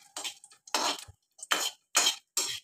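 A ladle scrapes and clinks against a pan while chicken stew cooks, with several short bursts of stirring in quick succession, close and fairly loud.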